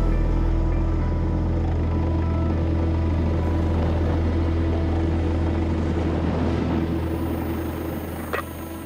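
Helicopter hovering close by over a high-voltage power line during line work in Sweden, a loud steady rotor and engine drone that holds throughout and only eases slightly near the end.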